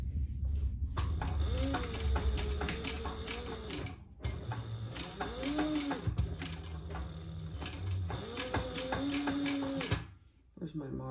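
A sewing machine stitches a 1/4-inch seam on a hobo bag, running in steady rapid bursts with short pauses around four and ten seconds, close and fairly loud, with faint speech underneath.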